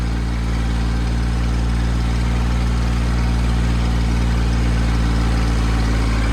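A tractor engine at roughly fifteen thousand feet on the road to Spiti runs in a steady, loud, low drone, straining for power in thin air, with no voices over it.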